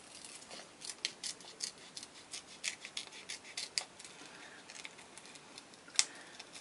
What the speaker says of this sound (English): Okay, I'm going to cut this out.